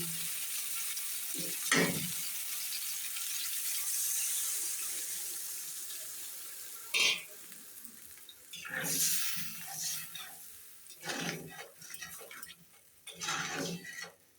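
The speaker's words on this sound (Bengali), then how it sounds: "এখন দিয়ে দিব পরিমাণ মতো জল।" Water poured into a pan of fried potato and cauliflower cooked in spices, a rushing splash followed by sizzling and several bursts of stirring and spatula scrapes, close up with no voices.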